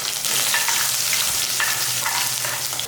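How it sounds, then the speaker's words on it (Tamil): Crushed garlic cloves sizzle steadily in hot oil in a pan for a fish curry, a dense close frying hiss with a few light stirring scrapes and no talk. "எண்ணெயில் போட்டு நல்லா வதக்கிக்கலாம்."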